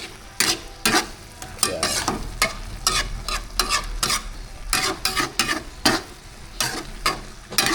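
Galunggong fish frying in hot oil, a steady crackling sizzle broken by repeated scraping stir strokes of a utensil in the pan, close and fairly loud, with a brief quiet voice talking.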